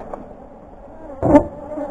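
A steady low insect hum of many honeybees at a 33-frame horizontal hive box, with a louder, closer buzzing swell near the end.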